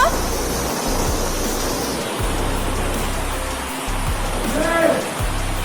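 Heavy rain pouring in Sutojayan, a dense steady wash of water noise with a low vehicle-like drone underneath and brief rising tones, loud and close.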